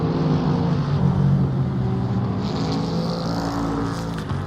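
GT3 race cars in a racing sim at Silverstone, several engines droning and revving loudly together, a steady roar with one car passing close near the end, no talk over it.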